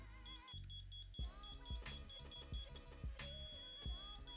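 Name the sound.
diamond tester beeping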